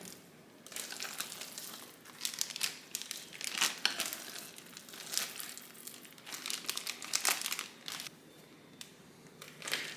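A plastic bag of manicotti filling folded over and handled, giving continuous crinkling and rustling with irregular louder crackles, close and moderately quiet.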